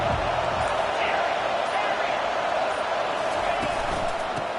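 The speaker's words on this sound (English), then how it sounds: "Listen to this crowd just shaking the girders of this place trying to help their defense." A football video game's stadium crowd roars in a dense, continuous wash of noise that stays loud and steady throughout, with a faint commentary voice buried in it.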